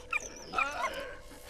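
A dog in the video game Valiant Hearts gives a short whimpering yelp and bark, close and brief, with no talk.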